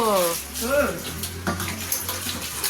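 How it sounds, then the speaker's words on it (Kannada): Water runs from a tap into a bucket, a steady broadband rush filling the whole clip at close range, with a person talking over it at the start and briefly again later. "ಬಕೆಟಲ್ಲಿ ನೀರು ತುಂಬಿರೋದು ನೋಡಿ"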